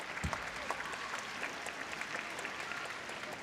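Spectators at a junior wushu championship applaud an injured athlete pushing through his taolu routine, continuous scattered clapping that is faint and distant across an arena.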